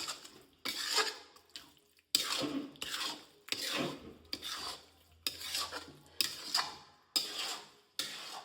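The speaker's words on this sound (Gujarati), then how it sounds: "આપણે તાવેતા વડે હલાવતા જ રહીશું," A spatula scrapes and stirs green turmeric in a pan in repeated short strokes of about a second each, separated by brief pauses, close and fairly quiet.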